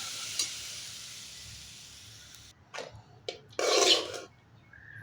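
About fifteen cashews stirred into a frying pan for cauliflower gravy: a soft steady sizzle, then a few short scraping stirs and one louder, longer rasp of a spoon across the pan, with no voices.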